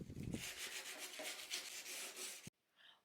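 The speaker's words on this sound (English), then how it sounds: "When I'm sanding, I go in with a 120 grit sandpaper." Filler is rubbed down with 120-grit sandpaper, giving a steady close scratchy hiss with rhythmic strokes that stops abruptly near the end.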